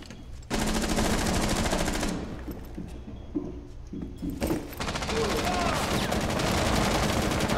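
Automatic gunfire in the video game Rainbow Six Siege, on the Skyscraper map: sustained rapid bursts of shots that drop away briefly in the middle and then resume, with players talking over them.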